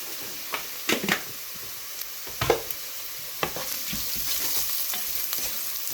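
Onions sautéing in a pan for a village-style rabbit gravy, with a steady soft sizzle broken by a few louder stirring scrapes and clanks near the start and middle, no voices.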